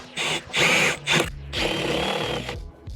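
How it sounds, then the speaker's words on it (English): A power drill with a 22mm bit whines in several short bursts, then runs longer as it bores at an angle through wood, close and fairly loud. "I'm going to drill a little bit of an angle and hopefully with this 22mm bit"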